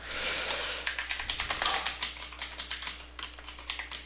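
Rapid keystrokes on a computer keyboard, close and fairly loud, coming in an uneven run of clicks after a brief pause at the start, with no talking.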